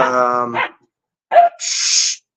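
A dog barks in two short bursts separated by a pause, close and fairly loud, with a whimpering, yelping quality and no talk over it.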